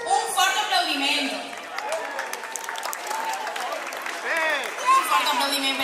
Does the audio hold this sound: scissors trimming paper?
no